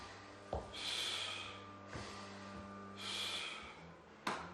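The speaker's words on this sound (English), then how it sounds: "and I'm breathing as I work." Heavy rhythmic breathing during a workout exercise, with loud forceful exhales alternating with sharp inhales in a steady cycle, close to the mic over a low hum.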